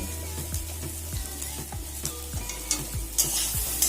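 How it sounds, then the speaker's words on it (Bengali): Spice paste with a little cumin powder stirred and fried in a pan, a spatula scraping in steady strokes about every half second over a continuous close sizzle, with no voices. "এভাবে একটু সময় নিয়ে নিয়ে নাড়াচাড়া করে কষিটাকে ভেজে নিতে হবে"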